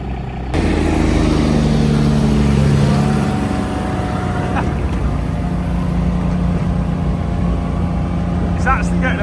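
A big tractor engine drives across a wheat field over ruts, a loud steady drone that starts abruptly and holds close, with a second tractor racing alongside.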